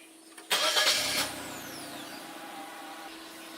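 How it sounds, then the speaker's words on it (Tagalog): A Hyundai Eon 800cc car engine cranks and catches after a quiet moment, a loud burst of starter noise settling into a steady idle hum that carries through to the end. "i-start na natin normally ang ating sasakyan."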